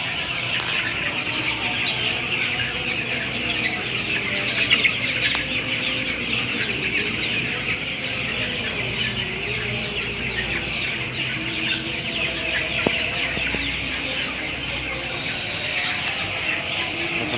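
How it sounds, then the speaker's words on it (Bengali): A flock of 18-day-old farmed chickens drinking water after three hours without it fills the air with a dense, continuous chorus of high chirping and clucking, with occasional wing flutters. "যে মুরগি তিন ঘন্টা পানি খাওয়া বন্ধ ছিল আর এখন মানে কারাকারি করে পানি খাচ্ছে"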